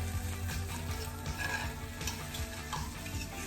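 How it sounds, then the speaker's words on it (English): A fork scrapes and stirs scrambled eggs around a hot pan, with a steady sizzle of frying underneath; continuous, close and fairly even for a few seconds, with no talking. "take my fork and start moving the eggs around so that they don't get stuck to the bottom of the pan"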